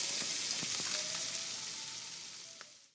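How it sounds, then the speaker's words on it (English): An egg and sausage frittata with olives cooks in a skillet over low heat, giving off a steady, soft sizzle and fine crackle close by, with a few faint pops and nothing else. "and then leave it alone to cook over a low heat."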